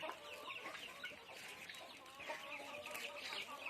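Chicks peep and chirp busily in a steady chorus, close by, with soft scratching and clucking underneath, as they are fed scraps of lettuce or cabbage.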